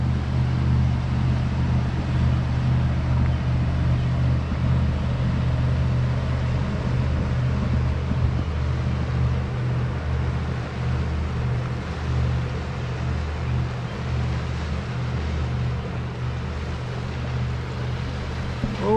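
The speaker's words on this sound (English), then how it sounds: "Here's the big boat that went through the lock." A large boat's engine rumbles steadily as it passes on the river after going through a lock, a deep continuous drone with faint water sounds, no talking.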